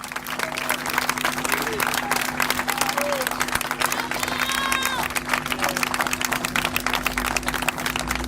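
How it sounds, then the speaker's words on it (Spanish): Audience at a political rally in a plaza breaks into dense, lively applause with some cheering and shouted voices, steady and moderately near throughout. "Un fuerte aplauso a los compañeros de la lista de Unidad Ciudadana."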